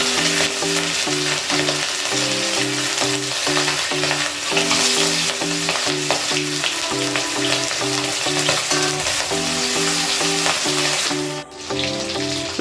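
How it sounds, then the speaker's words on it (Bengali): Chandana hilsa fish pieces sizzle steadily in hot oil in a pan, a continuous frying hiss running the whole time beneath loud, rhythmic background music. "এবার মাছগুলো ভেজে নিচ্ছি"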